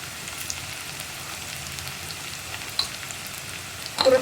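Onions sauté in a pan for a red cowpea stir-fry: a soft, steady sizzle stays close, with light scraping of stirring and a few louder clinks near the end.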